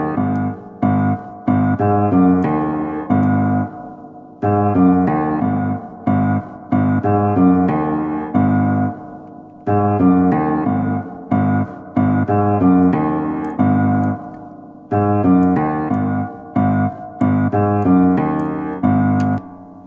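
A piano played through the PSP Pianoverb 2 plugin with its modulation effect, producing chorus- to vibrato-like wavering on repeated chords and phrases that stop and start in a steady rhythm, loud and alone with no talk.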